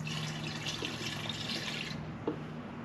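Liquid pours steadily into a container being topped off to the brim for boosting clover food plots, a faint continuous trickle that stops near the end with one small splash-like tick.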